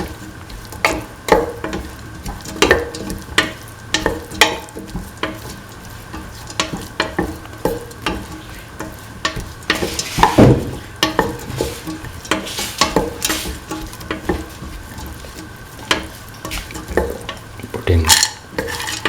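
Spoon stirring and scraping through a sizzling vegetarian stew of kidney beans, snake gourd and coconut milk in a pan, with steady frying hiss under repeated close clinks and scrapes and one louder burst of sizzle partway through.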